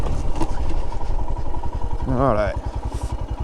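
A Royal Enfield Himalayan motorcycle engine runs with a steady, rhythmic single-cylinder thump. Someone speaks briefly over it, and a short rising whine cuts in midway.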